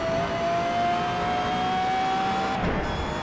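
Car engine in the Assetto Corsa racing game held under throttle, a continuous loud drone with a steady rising tone that cuts off abruptly near the end.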